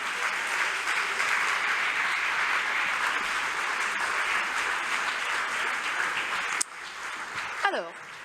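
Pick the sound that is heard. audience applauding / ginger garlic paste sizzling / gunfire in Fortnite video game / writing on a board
audience applauding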